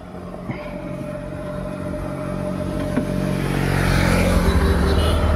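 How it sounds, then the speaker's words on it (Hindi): A car engine runs steadily and gradually builds, its low rumble rising toward the end as the vehicle pulls away, with a small click partway through and no speech. "तो बर्तमान गाड़ी को स्टार्ट करवा"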